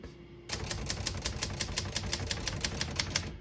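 Rapid, even keystrokes clack on a 1972 Hermes 3000 vintage portable typewriter, starting abruptly after a quiet moment and continuing as a close, steady run of sharp strikes with no speech.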